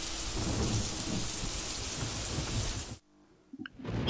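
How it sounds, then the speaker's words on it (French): Heavy rain in the King Kong video game falls with a low rumble of thunder underneath, then cuts off abruptly, leaving near silence and a few faint knocks. "En plus, il pleut."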